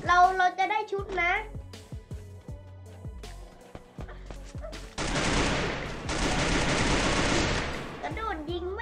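Rapid bursts of automatic gunfire in the mobile shooter Free Fire, a dense rattling stretch in the second half after scattered single shots, with a voice talking excitedly over the action.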